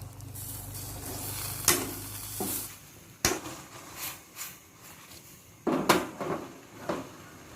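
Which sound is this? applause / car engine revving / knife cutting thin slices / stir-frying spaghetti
stir-frying spaghetti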